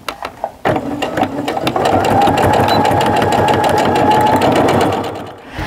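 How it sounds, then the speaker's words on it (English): Sewing machine stitching seams on a tote bag, reinforcing both sides: a few quick ticks, then a loud, steady, rapid mechanical whir that runs continuously for several seconds before easing off. "I'm gonna stitch all the way down, reinforcing those stitches on both sides"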